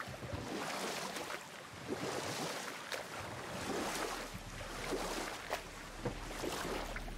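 A boat sails across sea waves in the God of War video game, with a steady, full wash of water and wind running throughout and occasional soft splashes.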